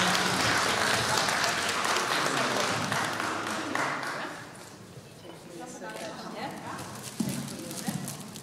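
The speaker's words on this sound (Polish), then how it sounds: "Wielkie brawa, oczywiście" Audience applauding at a Christmas carol concert in Wilków Polski, dense clapping loud at first and gradually thinning and fading toward the end, with a few sharp claps near the close.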